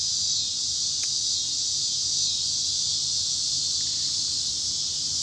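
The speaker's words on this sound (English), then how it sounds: "the cicadas. Is that what you're talking about?" Cicadas buzz in a constant high-pitched drone that holds steady and unbroken throughout, moderately loud with no voices over it.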